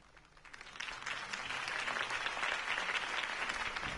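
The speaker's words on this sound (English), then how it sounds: "If only Mr. Wayne, my campaign's largest backer, could have heard that applause" Audience applause follows a campaign speech, building from a faint start into sustained, dense clapping from a crowd at moderate distance.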